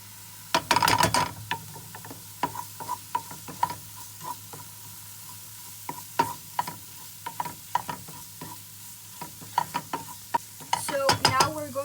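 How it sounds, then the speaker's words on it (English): Garlic and onions sauteing in a pan for a Turkish kebab dish, with a steady faint sizzle under repeated close stirring scrapes and clicks of a utensil against the pan, busier bursts near the start and end. "Now we're going to add in the garlic and we'll saute that as well."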